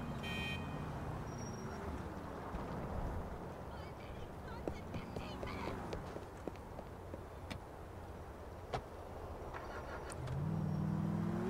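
A car in the game Grand Theft Auto 4, its engine humming and shifting in pitch through a busy city soundscape with scattered sharp clicks and knocks, the motor swelling louder in the final seconds.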